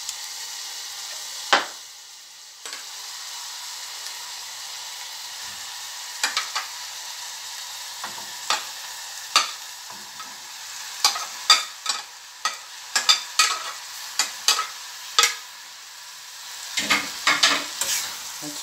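A spicy fish mixture with scotch pepper stirred and fried in a pan for Nigerian fish rolls, a soft continuous sizzle under repeated sharp scrapes and clacks of a utensil against the pan, quickening toward the end.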